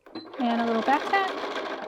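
A sewing machine stitches a back tack at the end of a shirt seam, running steadily and close for about two seconds with a voice over it.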